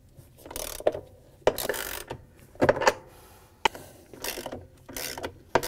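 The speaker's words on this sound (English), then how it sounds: "Using a ratchet with 1/2-inch socket, thread in and tighten the 4 bolts that hold the inner tub assembly in place." A ratchet fitted with a 1/2-inch socket tightens the bolts holding the inner tub assembly of a Whirlpool, KitchenAid or Maytag washer, giving repeated bursts of rapid clicking separated by short pauses, close and fairly quiet.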